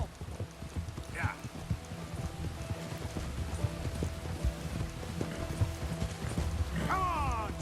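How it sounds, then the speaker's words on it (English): A horse in Red Dead Redemption 2 gallops with continuous rhythmic hoofbeats, loud and close, with creaking tack, a brief whinny near the end, and talk over it. "This is literally as fast as my horse is gonna go."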